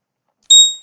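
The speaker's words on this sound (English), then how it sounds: "this alarm again has gone" A trading-platform alert goes off once, a single bright electronic tone that sounds abruptly and then fades, alone with no talk.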